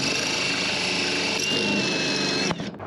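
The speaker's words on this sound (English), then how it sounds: "So I'm actually gonna drill straight through these brackets right into the rails on the boat." A power drill bores through metal brackets into a boat's rails, a steady high whine running for about two and a half seconds, then cutting off abruptly into faint handling noise.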